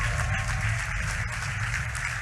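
Audience applause at a community college event honoring the technical sound and lights crew, a dense, steady wash of clapping with strong low rumble, brief and continuous throughout.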